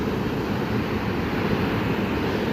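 Ocean waves wash in and pull back along a beach at a seaside resort, a continuous, loud, broad roar of surf with wind-like rush and no pauses.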